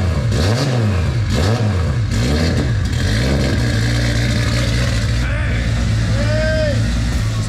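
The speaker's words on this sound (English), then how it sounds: "That exhaust note's tough." A Nissan R33 Skyline with an RB25 engine revs up and down repeatedly, its exhaust note rising and falling loud and close, then settles into a steady idle while people talk over it.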